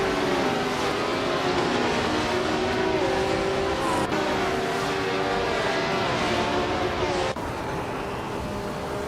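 Race cars overtake one another in a racing video game, with engines droning at high revs in a loud steady roar. Pitch shifts as cars pass, and brief gear-change cuts break the sustained engine sound.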